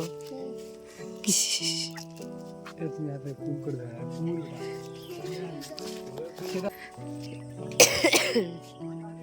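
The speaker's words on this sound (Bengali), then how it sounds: "দেখতে পাচ্ছ শুধু কি পরিমাণে আমার কাশি হচ্ছে" A person coughs harshly twice, once early and once near the end, between stretches of talking.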